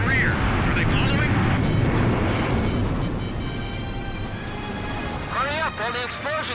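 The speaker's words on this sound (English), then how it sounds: "Hurry up, all the explosions are still masking our noise." Explosions in the combat flight game Ace Combat 5: a continuous heavy rumble of blasts and roaring aircraft, loud and dense throughout, with radio voices talking over the din.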